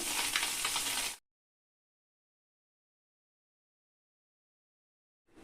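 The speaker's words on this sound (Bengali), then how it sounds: "মাছগুলোকে একটু লাল লাল করে ভেজে নিয়েছি" Fish sizzling in hot oil in a pan for rui fish curry, a loud, dense crackle lasting about a second before cutting abruptly to silence.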